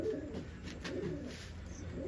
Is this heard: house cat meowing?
no